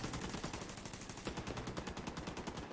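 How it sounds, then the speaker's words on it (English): An automated turret in The Division 2 keeps up rapid, continuous machine-gun fire, the shots coming in a fast, steady rattle close by and fairly loud, with no talk over them. "The turret is providing covering fire."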